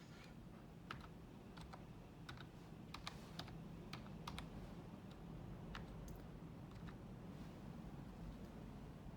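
Steady typing on a smartphone-connected computer keyboard, with irregular key clicks at a moderate pace over a constant low background hum, no voices.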